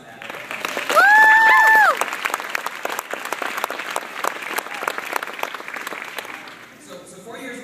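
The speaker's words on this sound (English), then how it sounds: "give yourselves a round of applause for that" An audience at a campaign field organizer's speech breaks into sustained applause, a dense wash of clapping with a brief whoop and some cheering, steady throughout before tapering near the end.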